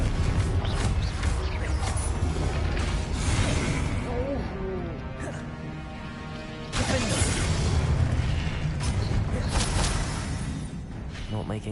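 A Confringo explosive spell blast in Hogwarts Legacy, heard as loud booming bursts amid constant game noise, with a second heavy blast midway and a voice speaking during the fight.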